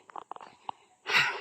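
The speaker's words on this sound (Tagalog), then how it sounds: "Paakyat na to. Kaya medyo hingal na." Heavy out-of-breath panting from someone climbing uphill on a mountain path: a few soft short puffs, then one loud, breathy exhale close to the mic.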